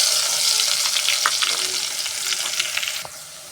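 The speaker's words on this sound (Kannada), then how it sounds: "ಈಗ ಎಣ್ಣೆ ಕಾದೈತೆ ರೀ ಇದಕ್ಕೆ ಸ್ವಲ್ಪ ಜೀರಿಗೆ ರೀ ಮತ್ತು ಬೆಳ್ಳುಳ್ಳಿ ಜಜ್ಜಿರ್ಕೊಂಡ್ಮೇಲೆ ಅದನ್ನ ಹಾಕ್ಕೊತೀನಿ ರೀ" Cumin and crushed garlic hit hot oil for a North Karnataka chicken gravy, giving a bright, close, crackling sizzle with a few sharp pops, tapering slightly toward the end, with no talking.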